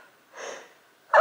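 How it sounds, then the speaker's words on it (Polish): A single sharp sneeze bursts out loud at the very end, after a soft breathy intake, at home while a woman cooks dinner in the middle of a sneezing attack. "Ataku kichania."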